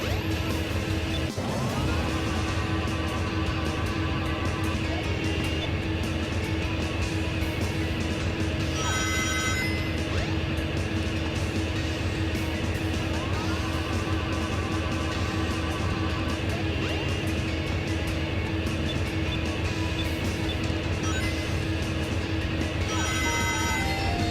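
Dense, loud Sonic Adventure game audio with repeated bright ring-collecting chimes ringing out over a busy, cluttered background of music and effects.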